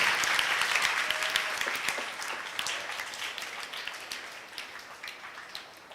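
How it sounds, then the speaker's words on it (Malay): An audience at a Sunday-night religious study gathering at the Nahdhatut Ta'limiyah Islamic boarding school claps in a dense burst that gradually thins out into scattered individual claps as it fades. "Tepuk tangan untuk Nahdlatul Ta'limiyah."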